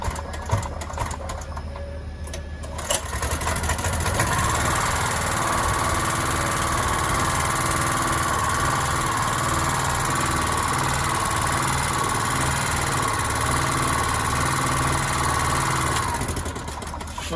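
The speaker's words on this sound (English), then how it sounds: "So we're gonna put on this gen right now for us to hear the sound." A 2.8 kV petrol generator starts, then runs at a steady idle with fresh engine mountings, a loud, constant mechanical drone with a buzzing rattle that holds for about twelve seconds before it eases off.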